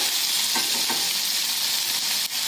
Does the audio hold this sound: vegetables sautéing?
yes